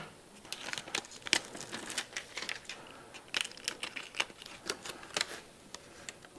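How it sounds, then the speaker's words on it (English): Aluminum tape being handled and crinkled during work on a 2002 Polaris Sportsman ATV. Close, sharp crackles and crinkles come in irregular bursts against a quiet background, with no talking. "I think I'm going to take this aluminum tape"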